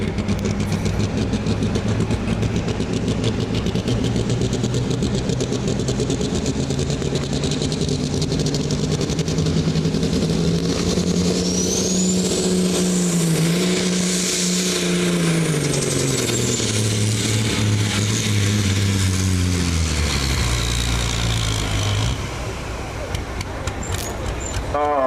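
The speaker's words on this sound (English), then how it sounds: "Build the boost in that truck." A Mack pulling truck at a county fair truck pull builds boost, its diesel engine roaring loud and close as it climbs in pitch, surges and falls back, with an announcer talking over it before it cuts off near the end.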